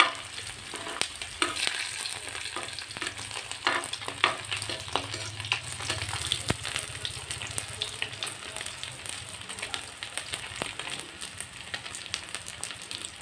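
Food sizzles and fries steadily in a pan during home cooking, with scraping stir strokes and clinks of a utensil against the pan scattered throughout, heard close and alone.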